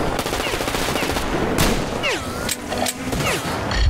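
Gunfire in the video game Metro Exodus: sharp shots and bursts ring out over a busy, dense game soundscape, with a voice commenting at moments.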